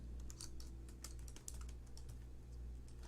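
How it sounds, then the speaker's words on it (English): Keys clatter on a computer keyboard in a steady, fast patter of soft taps, close by, over a low background hum during a live acoustic music stream. "Oh, you just saw me typing."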